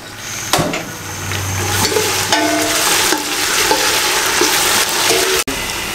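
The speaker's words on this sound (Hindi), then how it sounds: "इसमें शामिल कर दें और अच्छे तरीके से इसमें भुनाई कर दें 2 मिनट के लिए।" Green chilies, garlic and chopped ginger fry in hot oil for beef paya, giving a steady, close sizzle with bursts of crackle and occasional stirring scrapes, heard alone without talk.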